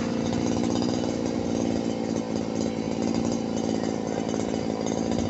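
A small cutting head fitted to a harvester machine saws through a tree with a continuous buzzing, chainsaw-like whine that holds steady and loud throughout with little variation.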